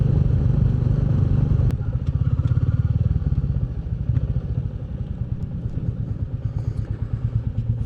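A loaded Royal Enfield Meteor 350 single-cylinder motorcycle rides along with its low, thumping engine pulse steady and close, a slightly uneven rhythm throughout.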